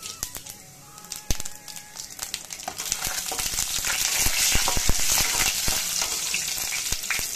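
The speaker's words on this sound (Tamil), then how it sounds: "கடுகு வெடிச்சு விட்டு இதோ உளுத்தம்பருப்பு போட்டிருக்கேன்." Mustard seeds and urad dal fry in oil with sharp pops and crackles over a rising sizzle that grows denser and louder, heard up close with no talking.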